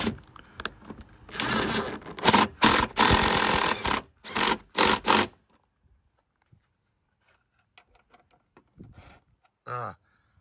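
A power driver tightens a hatch strut bolt on a 1999-2004 Jeep Grand Cherokee, with several loud, close whirring bursts in the first half, then near silence and a faint short noise at the end.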